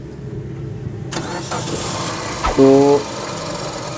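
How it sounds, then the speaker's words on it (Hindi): A car running with an abnormal noise gives a steady close engine drone, then a brief tonal whine rises over it. A single word is spoken. "ये वाली जो जनाब आवाज़ थी ये गाड़ी में से बहुत ज़्यादा आना शुरू हो गई"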